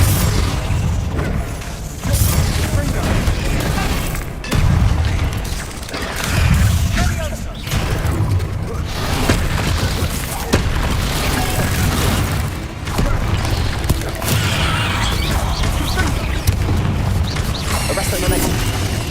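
Explosive spells such as Bombarda and Confringo go off in Hogwarts Legacy video game combat, a loud run of booms, blasts and crashing impacts with shouted spell incantations between them.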